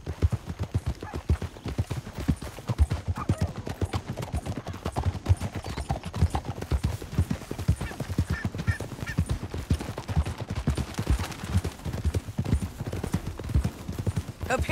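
Horse hooves pound rapidly at a gallop in Red Dead Redemption 2, a dense, continuous clatter of hoofbeats that carries through the whole stretch with no clear pauses.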